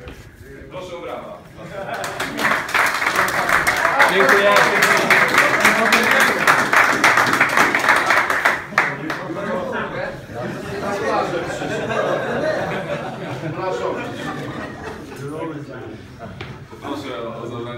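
Applause at a volleyball awards gathering, a burst of brisk clapping that swells, holds for several seconds and then fades into crowd chatter and laughter, with a voice speaking briefly.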